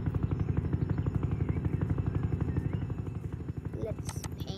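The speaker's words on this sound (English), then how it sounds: "let's go grab our army helicopter and go to the jewelry store" An army helicopter in the Roblox game Jailbreak thumps with a fast, steady rotor chop, loud and close, while a voice talks over it.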